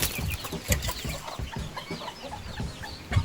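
Guinea fowls from a village, kept in a small city backyard with chickens, give loud, repeated harsh calls and clucks close by, with overlapping bird chatter throughout.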